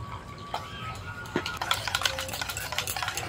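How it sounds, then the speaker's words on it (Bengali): Beaten-rice batter is stirred with sugar in a bowl, with soft scraping swirls and light clinks of a spoon against the bowl, quiet and close, with a few brighter taps in the second half. "ভালো করে মিশিয়ে নেব।"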